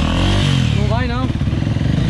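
A motorcycle engine turns over and revs at close range, its steady low rumble running under loud, overlapping shouting voices.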